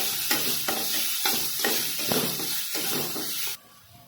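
Tomatoes, onion and green chili paste fry in a pan with a loud, close sizzle, stirred in regular scraping strokes, before the sound drops away sharply near the end.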